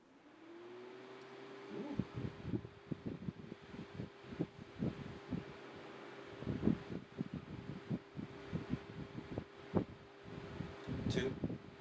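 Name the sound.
Vornado fan blowing at camera on setting 3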